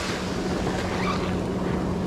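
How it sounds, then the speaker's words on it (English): Ocean surf rolling and breaking onto a beach at a fishing spot, a steady broadband wash of waves with wind noise on the microphone, loud and continuous with no talking. "So all these waves are breaking"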